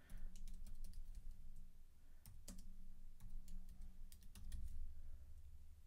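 Fast irregular keystrokes on a computer keyboard as data is entered into an office spreadsheet, clicks sharp and near over a steady low background hum, with no talking.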